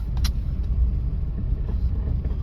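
During a driving lesson, a car engine hums low and steady from inside the cabin, with a faint rumble and a few light knocks and no speech.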